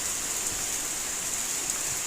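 Heavy rain pouring steadily during a storm with strong wind, a dense even hiss close by with no gaps and no voices.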